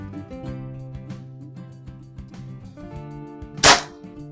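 A single sharp shot from an air rifle with a 17-inch barrel cracks near the end, after a stretch of quiet background music.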